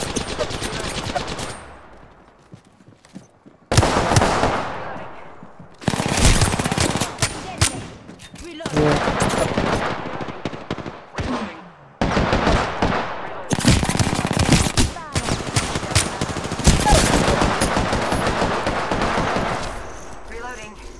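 Bursts of automatic weapon fire in Apex Legends, loud rattling volleys separated by short silent gaps, some bursts longer and sustained, others clipped and brief.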